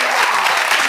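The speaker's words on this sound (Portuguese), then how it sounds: "Pode aplaudir." Studio audience of the Brazilian TV talent show Show de Calouros claps in a loud, dense burst, a short, continuous wash of applause.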